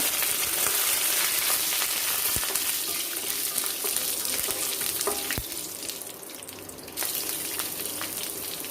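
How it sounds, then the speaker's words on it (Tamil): Mustard seeds and chana dal frying in hot oil for coconut rice, a loud, continuous crackling sizzle with scattered pops and a sharp tick or two, close up with no talking. "இதில் கடுகு, கடலைப்பருப்பு இதை வந்து நம்ம ஆட் பண்ணிடலாம்."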